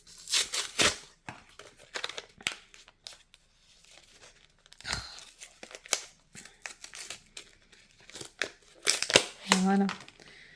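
Plastic packaging of a pink We R Memory Keepers paper cutter being torn open, irregular close crinkling and ripping bursts with pauses, while someone talks in between.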